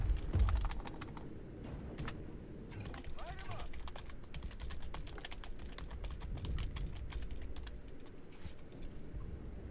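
Typing on a computer keyboard during a War Robots Frontiers and World of Tanks gaming session, a steady run of fast, close key clicks with faint background noise and brief muffled sounds underneath.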